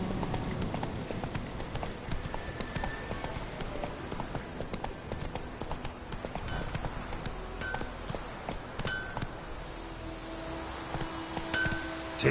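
Horse hooves clop steadily in the video game Witcher 3, a rapid galloping rhythm over soft ground with faint chimes and effects around it.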